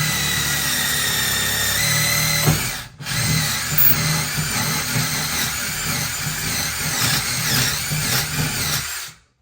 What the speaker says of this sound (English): So now we're going to pre-drill this here.